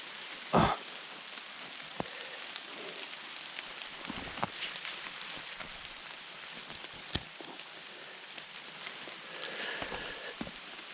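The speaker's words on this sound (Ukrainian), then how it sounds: "а дощ не перестає." Steady soft rain patters on surfaces nearby in a Carpathian mountain forest, with scattered sharper drops and a few brief knocks; no one speaks.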